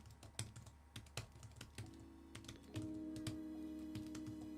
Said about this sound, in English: This keyboard is surprisingly satisfying. I like the sound, I like the key travel